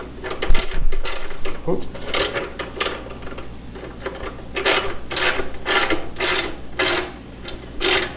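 A ratchet wrench tightens a bolt on the sissybar of a Harley-Davidson Iron 883, giving repeated loud rhythmic clicking bursts up close, with brief talk near the start.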